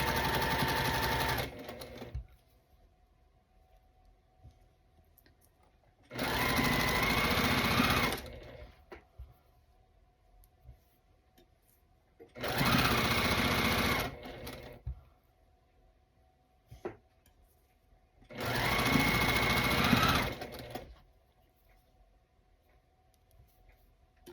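A sewing machine fitted with a quarter-inch foot stitches quilt block seams, running in four separate bursts of steady mechanical whirring and rattling several seconds long, each followed by near silence.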